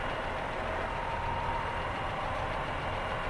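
Pacer diesel train engine on tick over in Train Simulator 2019: an even, low diesel idle with a gritty chug, steady and close, with no voices over it.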